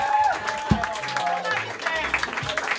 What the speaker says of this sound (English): these two deserve a huge round of applause